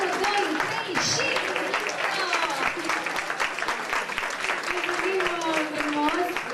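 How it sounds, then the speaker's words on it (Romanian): Audience applause at a children's charity performance, dense steady clapping from a small crowd lasting several seconds, with a voice talking over it. "Aplauze, vă rog frumos."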